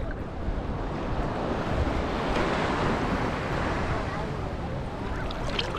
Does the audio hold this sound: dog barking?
no